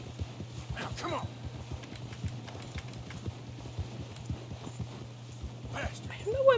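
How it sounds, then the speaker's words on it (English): Horse hooves clop in a quick, even gallop rhythm through snow in Red Dead Redemption 2, with a low steady hum beneath and someone talking briefly over it. "I don't know why my horse is just not running."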